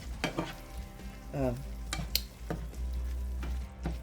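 Hamburger meat in Manwich sauce sautéing in a pan, a low bubbling sizzle with repeated spatula scrapes and stirring knocks up close.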